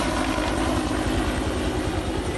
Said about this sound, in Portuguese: Um helicóptero acompanhou a operação.